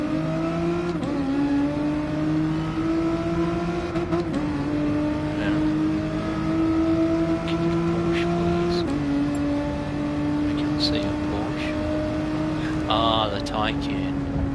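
A Nissan GT-R in a video game holds a steady engine note that steps up through several gear changes, sustained and fairly loud, with a voice talking over it.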